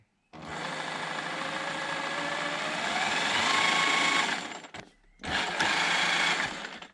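A 1/10 scale HB Toys ZP1001 4x4 RC Land Rover 110 Defender runs its electric motor at full throttle, a loud steady whine that rises in pitch, cuts out briefly, then surges again.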